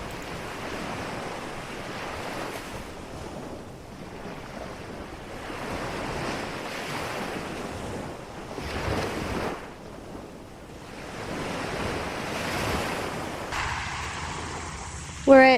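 Steady surf washes over Hobbs Beach on Tiritiri Matangi Island, New Zealand, with wind gusting across the microphone in a continuous, fairly loud roar, cresting a few times and ending with a short bump.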